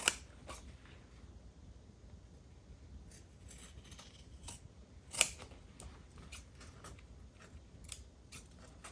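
Scissors snipping through fabric, a series of quiet, crisp cuts at an irregular pace with one sharper snip midway, close by in a quiet room.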